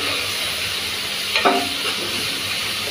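A spice mixture being sautéed in a pan before bottle gourd stems go in, with a steady close sizzle, one brief stir clatter around the middle and no talk.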